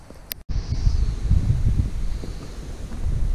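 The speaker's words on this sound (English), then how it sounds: "It's a little bit windy." Wind buffets the microphone in a steady low rumble while fishing for flathead catfish, with a brief click and dropout near the start.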